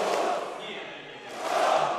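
A crowd boos at a Dota 2 Kiev Major match between OG and VP. The sound is a broad, steady roar of many voices that dips slightly in the middle and then swells louder near the end.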